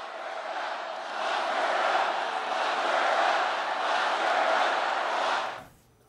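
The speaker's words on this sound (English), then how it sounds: "That chant is still happening, and did as recently as last month." Large crowd at a Trump rally chanting in unison, a loud, sustained roar of many voices holding steady for about five seconds before cutting off abruptly.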